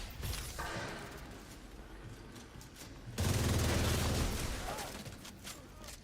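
Faint, muffled gunfire in The Division 2 comes through walls, starting quietly, then a dense rapid burst of shots about halfway that rattles for around a second before fading back.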